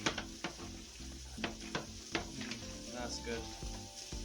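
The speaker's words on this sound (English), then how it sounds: "Onions are cooking nicely too." Onions frying in a pan with a steady close sizzle, broken by clinks and scrapes of stirring, while someone speaks briefly.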